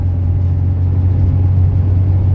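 A 1982 Mercedes 240D diesel car pulls steadily through its gears, with a constant low engine drone and road rumble heard close from inside the cabin and no voices.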